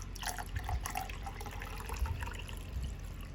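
Water pours and splashes steadily into a glass holding a Vanda orchid for a water-culture soak, a continuous close bubbling rush with a few louder gurgles.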